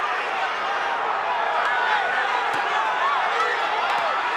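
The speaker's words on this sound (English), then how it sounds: "The crowd going crazy." Boxing arena crowd roaring wildly at a fight, a dense, loud, sustained wall of cheering and shouting with sharp whistles cutting through, no pauses throughout.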